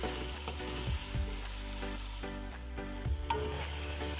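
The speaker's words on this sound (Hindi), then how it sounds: "7 से 8 मिनट हो गए हमने चिकन को भूनते हुए" Chicken frying with ginger garlic paste in a pan, a moderate sizzle under a low steady hum, with occasional soft scrapes of stirring.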